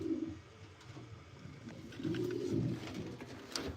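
Pigeons in a breeder loft coo in low, rolling, overlapping calls, close and steady with no talk.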